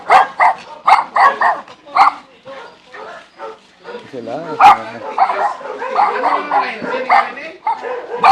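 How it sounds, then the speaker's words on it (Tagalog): Several dogs bark and yip in short repeated bursts, some close and some farther off, with a whimper among them, while people talk over and between the barks. "Dami aso."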